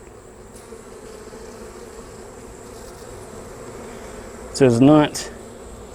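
Honeybees buzzing during a hive inspection, a steady close insect hum throughout, with a brief burst of talk near the end.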